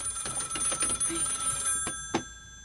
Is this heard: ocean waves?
no